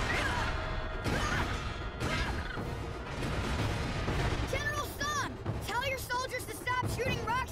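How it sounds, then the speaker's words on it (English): Cartoon battle effects of soldiers firing rocks downward: repeated crashing, booming impacts and whooshes in a dense, continuous barrage, with shouted voices and whistling streaks layered over the din. "Shooting rocks down here!"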